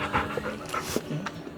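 Dogs panting and whimpering close by, short breathy pants with a few high whines, on a boat where they greet people in the morning.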